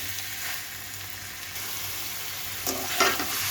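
Grated ash gourd cooks with soybean oil and sugar for halwa, giving a continuous close frying hiss, with a few louder scraping stirs of the spoon near the end.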